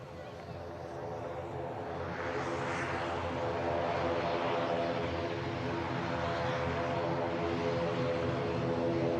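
A plane taking off from the runway at Manchester Airport, a broad engine roar that swells and holds steady as it climbs away, with people talking over it.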